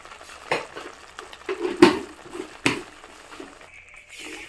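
A spoon stirs spices around a frying pan while cooking palak paneer, giving several scraping and clinking strokes against the pan, close and fairly loud, with a faint sizzle between them.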